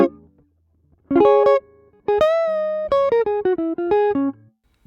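A jazz guitar phrase, played alone and up close, with a bent minor-third blues note. Distinct sustained notes arrive in short bursts with brief gaps between them.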